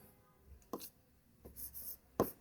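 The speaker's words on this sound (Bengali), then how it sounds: "এটা এখানে লিখবো" A pen writes out an electrical power transmission calculation on paper: short scratchy strokes in a few separate bursts, close and quiet, with brief gaps between them.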